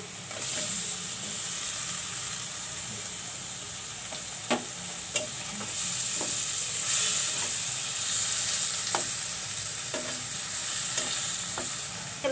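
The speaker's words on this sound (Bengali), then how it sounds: "মশলা কষানো হয়ে গেছে এখন আমি টমেটোগুলো দিয়ে দিচ্ছি" Tomatoes dropped into frying spices for a fish-belly tomato curry, giving a steady bright sizzle and hiss with sharp spatula taps and scrapes at irregular intervals.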